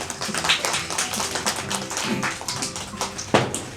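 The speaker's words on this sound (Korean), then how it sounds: "박수로 청해드릴게요" An audience at a Korean talk event applauds a speaker, dense overlapping claps in a steady patter that swells and fades over a few seconds.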